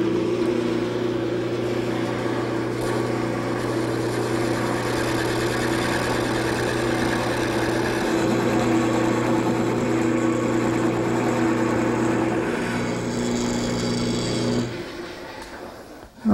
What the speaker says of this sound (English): I'm going to start the turning by using a gouge,